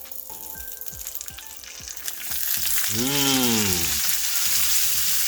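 Cauliflower steak fries in a pan with a steady sizzle, preceded by a few light taps and a brief rising whine, while a voice murmurs once.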